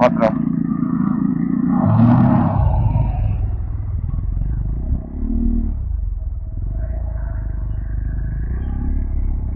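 A motorcycle ridden hard on a rough road growls with a low, steady engine rumble, some rattling clatter and brief revs as it goes.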